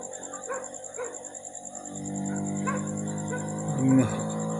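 Several dogs bark in short bursts at a distance, with yips and a whimper, over a low engine hum and a steady high whine.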